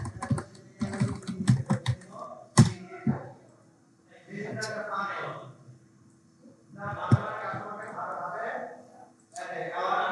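Bursts of quick clicky keystrokes on a computer keyboard, typed in short runs between stretches of a person talking.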